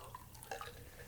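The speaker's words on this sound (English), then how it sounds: "Just gonna top it off with a little bit more water." Water poured from above into a glass with ice to top up a lemon-sweetened drink, a soft brief splash and trickle with faint dripping, quiet and close, no talking.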